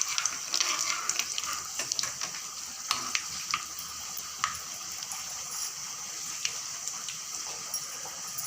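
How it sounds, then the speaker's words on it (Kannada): Mustard seeds and two or three dried red chillies sizzle in hot oil as a tempering for navane bisi bele bath, giving a steady crackling hiss scattered with sharp pops and spits, close up and without talk. "ಎರಡರಿಂದ ಮೂರು ಒಣಮೆಣಸಿನ್ಕಾಯಿ ಒಗ್ಗರಣೆಗೆ ಹಾಕ್ತಾಯಿದ್ದೀನಿ"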